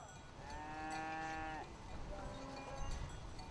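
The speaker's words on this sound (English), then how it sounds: "In the morning, the cows go out to the pasture." Cattle in the Kackar Mountains of Turkey moo as they head out to pasture in the morning, several long, drawn-out calls rising one after another over a steady outdoor background.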